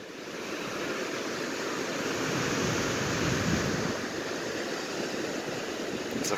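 Waves wash steadily against the rocky, sandless shoreline of Lake Michigan, a continuous broad surf roar mixed with wind buffeting the microphone.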